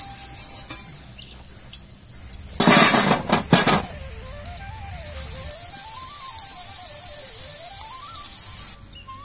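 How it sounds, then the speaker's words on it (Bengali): Designed pitha cakes frying in hot oil, a continuous close sizzle with a louder burst of crackling spatter in the middle, plus light utensil clinks and background music. "ডিজাইন করা পিঠেগুলো ভেজে নিচ্ছি"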